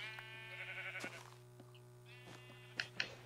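Quiet Minecraft sheep bleats, wavering and faint at first, then two short sharper calls near the end, sitting over a constant low hum in the game.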